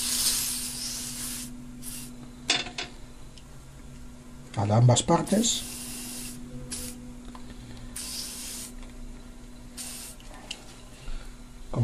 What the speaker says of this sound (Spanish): procedemos a darle una pequeña engrasada con aceite en spray